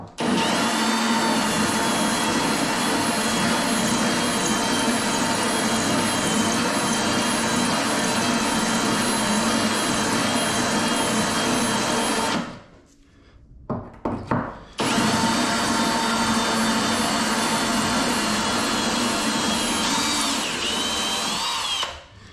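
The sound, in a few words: drilling through concrete floor for shower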